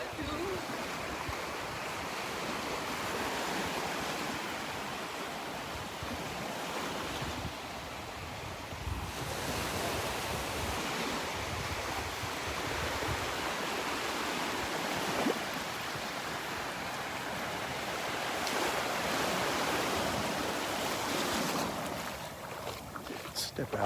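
Ocean surf rolling onto the beach at Delnor-Wiggins, a continuous hissing wash of waves with gusts of wind buffeting the microphone, steady and fairly loud throughout, with no clear voices.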